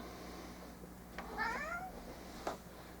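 A cat gives a short, quiet meow, then a brief second chirp a moment later, in a calm indoor room with a low background hum.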